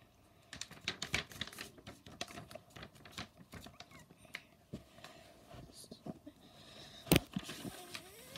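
A sheet of paper being folded in half lengthwise for a paper plane, with close crisp creasing rustles, sharp taps and crinkles in irregular bursts and a louder crackle near the end.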